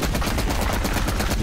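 Rapid gunfire cracks in a Cold War video game firefight, a quick string of evenly spaced shots loud against the background for the short moment.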